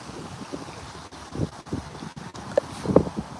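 Steady wind blowing across a small RV park pond during bank fishing, rushing and buffeting the microphone in gusts, with faint splashes and small handling noises underneath and no talking.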